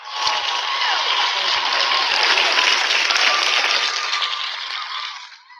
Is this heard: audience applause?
yes